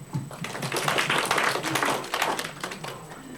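Applause breaks out in a church youth service, a dense crowd clapping loudly and steadily for about three seconds before it starts to thin out near the end.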